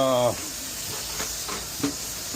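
Dishes washed at a kitchen sink while cooking tamales, running water hissing steadily close by with faint clinks and splashes, a brief voice at the start.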